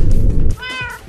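A cat in a Minecraft story gives one loud, clear meow after a burst of low rumbling game noise, close and brief.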